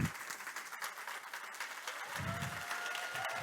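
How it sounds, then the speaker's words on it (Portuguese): Sustained audience applause fills a hall after a talk introduction in Brazil, a steady dense wash of clapping holding at an even level throughout. "E agora vocês podem aplaudir."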